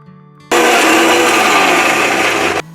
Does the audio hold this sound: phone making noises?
no